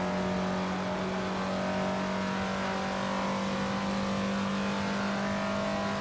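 A Jaguar race car engine in a Le Mans endurance racing video game holds a steady, loud droning roar at constant pitch, a sustained hum with no gear changes or voices over it.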